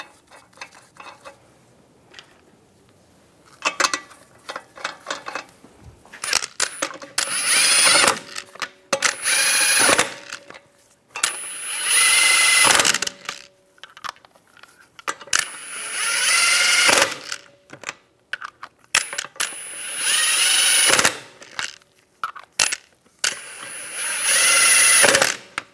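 A power drill spins lug nuts onto a Cadillac SRX wheel in repeated short whining bursts, with clicks and clanks of the tool and nuts in the gaps between them.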